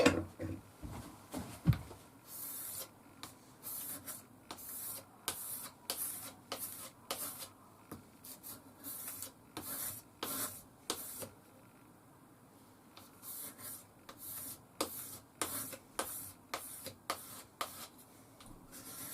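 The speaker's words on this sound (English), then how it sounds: "I'm going to use my micro mesh strops now, put a mirror on them." A Mora knife blade is stropped on micro mesh strops held in a vise, making rhythmic, faint rubbing strokes that repeat back and forth in quick runs with short pauses between them.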